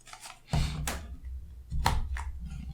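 Small plastic tabs locking the cardboard box of a Maceton Bluetooth audio dongle are cut, giving two sharp, close snips about a second apart with light handling noise between them.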